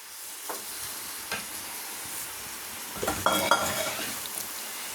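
Spicy chicken fry cooking in thick gravy in a pan, a steady soft sizzle with occasional scraping and clinks of a spoon stirring, close and alone.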